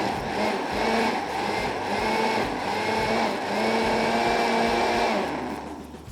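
A blender pulsing fresh figs for a fig and tomato salsa, a loud whirring motor grind with slight surges in pitch over several seconds, then spinning down at the end.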